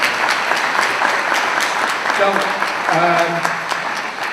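Audience at a town meeting applauds with steady crowd clapping, and a voice starts speaking over the tail end as the clapping carries on.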